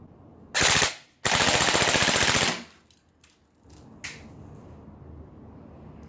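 An AEG M4 airsoft rifle with a bolt blowback and recoil system fires full-auto, a short burst followed by a longer rapid burst of about 14 shots per second, loud and close, then quieter mechanical clicks.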